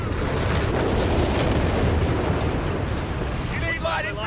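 A German 88 gun fires in the Company of Heroes 3 battle game, heavy booming blasts rolling one into another through a dense, loud barrage of game noise, with voices briefly audible near the end.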